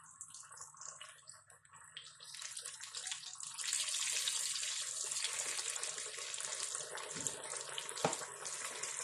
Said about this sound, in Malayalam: എണ്ണ നല്ല ചൂടായി കിടക്കുവാണ്. അതിലേക്ക് ഞാൻ ആ മീനിട്ട് ഫ്രൈ ആക്കുന്നു.